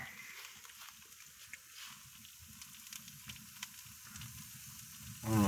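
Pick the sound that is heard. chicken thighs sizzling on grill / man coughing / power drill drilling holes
chicken thighs sizzling on grill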